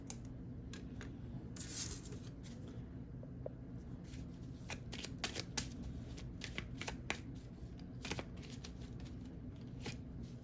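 Tarot reading cards being shuffled close by, with quick, faint riffling and crisp flicking of the deck repeating through the whole stretch in a quiet room.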